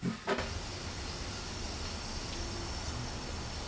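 A steady, faint hiss of fuel gas flowing between canisters through a transfer device, continuous and even, with a couple of brief clicks at the start.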